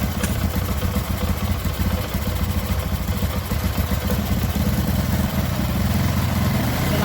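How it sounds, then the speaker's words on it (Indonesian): Motorcycle engine running close by after being started on the electric starter in a workshop, a steady idle with a clattery mechanical texture and a brief click near the start. "Ya starternya nyala."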